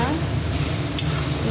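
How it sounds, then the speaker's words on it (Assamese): Finely chopped onions with two bay leaves fry over medium flame, a dense, loud, continuous sizzle with a brief bright scrape of stirring midway, no voices. "এইখিনি ভালদৰে ফ্ৰাই কৰি ল'ব"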